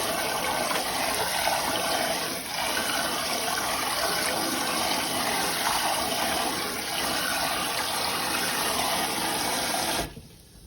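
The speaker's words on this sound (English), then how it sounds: "Using cold water, and we're just rubbing the grains together" Cold tap water runs over rice grains being rubbed and rinsed in a pot, a steady, close rushing gush with faint churning that cuts off abruptly near the end.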